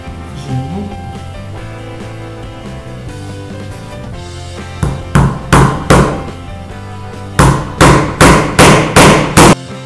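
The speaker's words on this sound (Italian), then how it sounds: "Martello, chiodi." A hammer drives nails while a rotating cake stand is assembled, with a quick run of about five sharp knocks followed by a second run of about six evenly spaced strikes, loud and close.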